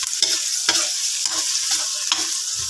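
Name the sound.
sautéing browned pork with onion and garlic in a pan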